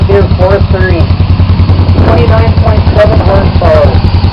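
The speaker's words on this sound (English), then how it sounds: "that's a real nice 59, beautiful running and beautifully restored little John Deere 430" A restored 1959 John Deere 430 tractor, a small standard twin of 29.7 horsepower, runs steadily at a harvest reunion show, its low engine drone continuous and close, with people talking over it throughout.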